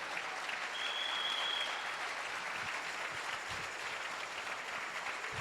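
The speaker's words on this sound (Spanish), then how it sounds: "dele una ofrenda de palmas a Jesús" Congregation at a church service gives sustained applause, a dense steady clapping throughout with no voice over it.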